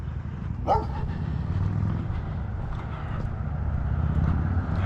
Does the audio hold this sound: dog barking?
yes